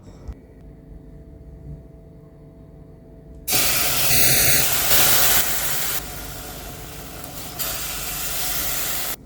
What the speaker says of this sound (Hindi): अब जो मैंने नट्स चॉप किए थे और ये सब्ज़ इलायची, इसको भी लाइट सा इसी में फ्राई करके